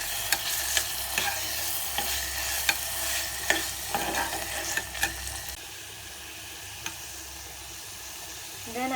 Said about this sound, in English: Stir it well until the raw smell goes.